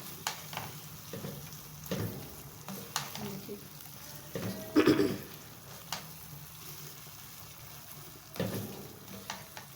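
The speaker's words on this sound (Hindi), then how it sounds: "अच्छे से मिक्स करके कवर कर देंगे" Aloo keema fries in a pan while a utensil stirs it, giving soft sizzling under intermittent scraping and clinking strokes, quiet overall with a louder clatter midway.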